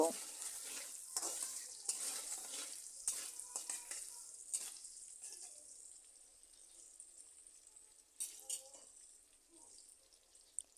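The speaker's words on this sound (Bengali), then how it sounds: "এই পেঁয়াজ কুচিগুলোকে আমি কিছুক্ষণ বেজে একটু লাল করে নেব" Chopped onions fry in hot oil for an egg curry, a steady soft sizzle with scattered scraping stirs, louder at first and thinning out toward the end, with no voices.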